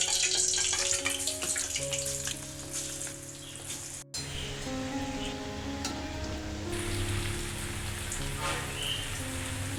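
Carrot kola urundai dough dropped pakoda-style into hot oil gives a steady, close crackling hiss of deep frying, with a sustained tonal hum running underneath.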